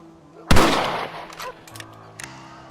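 A single loud rifle shot in the Red Dead Redemption video game cracks close by and rings out in a decaying tail, followed by a few fainter clicks and knocks over a low background hum.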